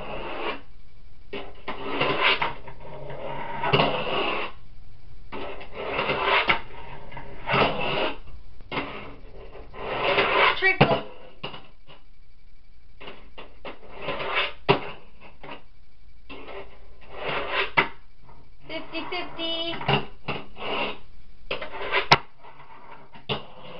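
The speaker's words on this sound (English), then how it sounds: "Let's do a frontside grind." A Tech Deck fingerboard scrapes through a frontside grind in a series of short, close scraping rolls broken by small clacks and brief pauses, with no talking.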